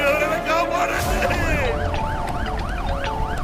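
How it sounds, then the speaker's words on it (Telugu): An ambulance siren wails loudly and close by, first a rapid high warble and then a repeating rise-and-fall yelp that keeps cycling over traffic rumble. "అంబులెన్స్ వస్తోంది"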